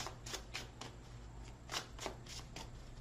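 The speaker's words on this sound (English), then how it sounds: "3 outcome cards off the top of the deck after this shuffle." A deck of tarot cards is shuffled by hand in quick, riffling bursts, several crisp ruffles spaced unevenly over a few seconds, close and fairly quiet with no talking.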